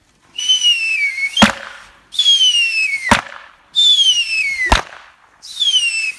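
Firework rockets whistling as they rise, each ending in a sharp bang, four launches in steady succession, loud and close in a city courtyard during New Year celebrations.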